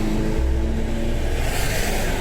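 A Ferrari driving past on a Glasgow road, its engine revving loudly and close by for a couple of seconds before fading into steady traffic noise.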